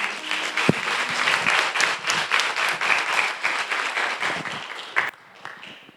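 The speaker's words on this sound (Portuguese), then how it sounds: "Vamos aplaudir o nome de Jesus" Church congregation applause during a Quadrangular worship service in Lages, SC: dense, even clapping for about five seconds that drops off abruptly, leaving a faint tail.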